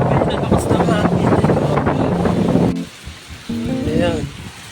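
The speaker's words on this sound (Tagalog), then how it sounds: "Nalakas ng hangin." Strong wind roars across the microphone outdoors in stormy weather in Nakar, Quezon province, a loud steady gusting rush with people talking over it, dropping briefly before picking up again.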